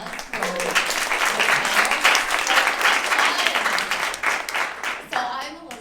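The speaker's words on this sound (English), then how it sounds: "Can I just get another round of applause for the" An audience at an evening panel event on women in early-stage investing applauds warmly, the clapping full and sustained for several seconds before fading, with cheers mixed in.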